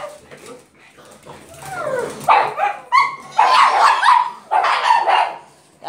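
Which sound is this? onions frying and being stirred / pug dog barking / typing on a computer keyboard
pug dog barking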